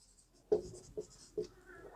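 Pen or pencil writing trigonometry working on paper, three short scratchy strokes spaced about half a second apart, close and fairly quiet with no talk.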